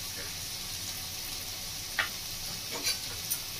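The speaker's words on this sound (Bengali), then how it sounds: "একটু নাড়াচাড়া করে নেব।" Grated radish cooked with rohu fish head sizzles steadily in about a spoonful of ghee, with a few soft stirring scrapes near the end, close and fairly quiet.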